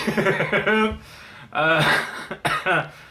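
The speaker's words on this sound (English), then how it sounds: "Buying time to think of what to say by fake coughing" A person gives a few exaggerated, voiced coughs and throat-clearing sounds in quick bursts, close and fairly loud.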